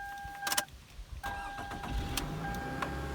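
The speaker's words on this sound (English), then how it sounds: "Now we're just going to start the car, make sure everything's running good" A 2002 Toyota Camry with freshly replaced coil packs cranks briefly, then fires up and settles into a steady idle. Short bursts of cranking come first, followed by a continuous even engine hum at close range, with no talking.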